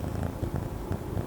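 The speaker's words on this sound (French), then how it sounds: "elle ronronne" A female pet cat purrs up close, a steady, low, rhythmic rumble with soft pulsing breaths and no talking.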